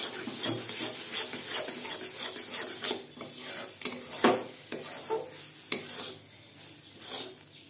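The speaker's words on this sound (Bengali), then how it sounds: "আমি আরেকটু কষিয়ে নেব ভালো করে, যাতে আরেকটু জলটা শুকিয়ে যায়।" Mango sandesh mixture is stirred and dried in a pan: a spoon scrapes and clatters against the metal in a steady run of close, uneven strokes, with a few sharper knocks and a faint sizzle beneath.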